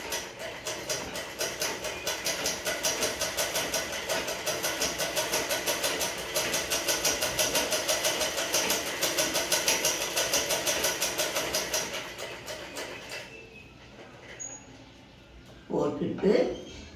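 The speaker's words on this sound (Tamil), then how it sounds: "உடையோட நல்ல பக்கம் ஒட்டு துணியை வச்சு ஒரு தையல் போடணும்." A sewing machine stitches a facing patch onto the right side of a garment in a steady fast mechanical whir for about thirteen seconds, then slows and stops, followed by faint handling noises and a brief louder clatter.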